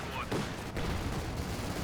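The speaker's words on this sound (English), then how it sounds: "T-70 firing away." Battle fire in Company of Heroes 2, with a T-70 tank and Vickers K units shooting, heard as a faint dense crackle of distant gunfire and muffled blasts beneath a commentator's voice.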